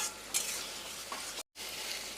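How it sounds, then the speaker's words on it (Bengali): Thick spice paste stirred and fried in a pan with a little hot water, giving a steady close sizzle with scraping strokes, broken by a brief silent gap before the frying resumes. "মশলাটাকে কষিয়ে নেব।"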